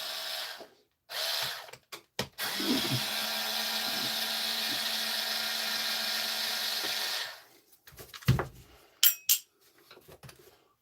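A cordless power drill backs screws out of a battery-powered leaf blower during a teardown: one long steady whirring run of about five seconds, preceded and followed by short bursts and clicks and clattering handling noises, close and loud.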